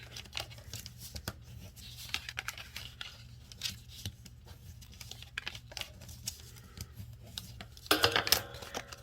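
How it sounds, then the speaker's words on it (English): Paper card being folded along scored lines during a craft project, with soft crinkling, creasing and scattered light handling clicks throughout, and a louder burst of paper rustle near the end. "Now we're going to fold on our new little score lines that we made."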